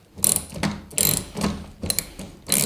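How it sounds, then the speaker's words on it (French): A ratcheting hand tool tightens a screw in a series of brisk, uneven bursts of clicking, each a quick run of sharp metallic ticks with short pauses between, close and fairly loud. "Ça prend la vis directe, voilà, et ça va me la serrer."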